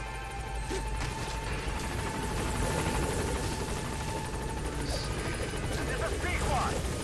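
A helicopter in the Metal Gear Solid V video game whirs with a steady low rotor rumble and hiss, partly masked by game noise and a player talking over it.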